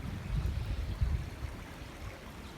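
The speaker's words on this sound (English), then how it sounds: "Water." Creek water runs in a soft, steady babble with faint trickling close to the microphone, alone and fairly quiet.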